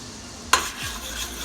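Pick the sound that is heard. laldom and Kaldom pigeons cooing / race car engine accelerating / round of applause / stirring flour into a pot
stirring flour into a pot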